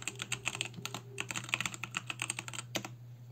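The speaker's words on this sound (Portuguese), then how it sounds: "eu vou digitar ele aqui" Rapid, uneven keystrokes on a computer keyboard as a command for MySQL secure installation is typed during a Joomla 4 setup, close and crisp over a steady low electrical hum, with no talking.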